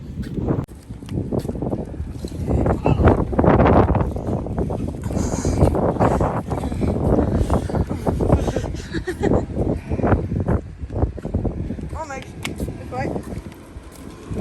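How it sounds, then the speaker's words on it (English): Strong wind buffets the microphone throughout with a loud, continuous rumble, while people talk underneath it on a waterfront walk. "It's really windy."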